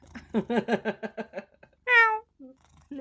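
A person imitates a cat's meow close to the microphone, giving one loud, drawn-out harmonic meow that follows a stretch of quick chatter, with brief talk resuming afterward.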